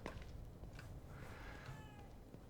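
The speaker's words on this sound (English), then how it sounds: "so this is my cat now" Cat meowing in the survival horror game The Evil Within 2, a faint, short cry or two over a low hum of ambient game sound.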